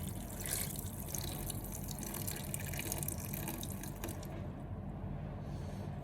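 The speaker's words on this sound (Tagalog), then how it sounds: "Ilagay na po natin yung tubig." Water pours steadily into a cooking pot while making ginataang tilapia, a continuous close splashing fill that runs unbroken and fairly loud for the whole stretch with no talking.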